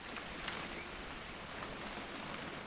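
Continuous rainfall in the game What Remains of Edith Finch, a dense even hiss with occasional soft droplet taps, no voices.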